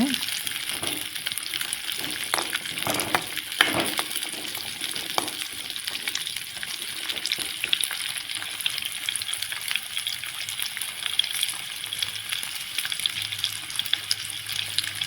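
Small onions sauté over a high flame for Tamil-style kurma, with a continuous broadband sizzle and occasional utensil clinks from stirring throughout.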